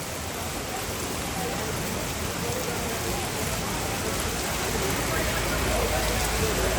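Steady, dense hiss of heavy rain and hail pelting a surface on the Vaishno Devi pilgrimage route, continuous and fairly loud throughout, with a rough patter of hail mixed in.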